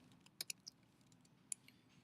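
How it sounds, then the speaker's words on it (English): Light, sparse typing on a computer keyboard: a few quiet separate key clicks in an irregular rhythm, with a couple of sharper taps, close by and without talk. "I don't know why I'm typing the word hello"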